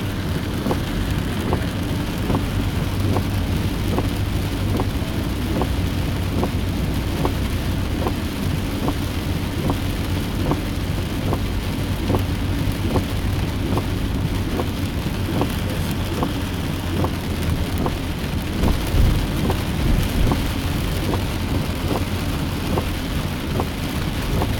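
Heavy rain pours steadily in Houston during Hurricane Harvey's storm, a dense, continuous roar with a faint rhythmic ticking throughout and no clear thunderclap, recorded close and loud with no talking.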